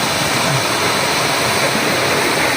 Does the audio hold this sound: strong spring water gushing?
yes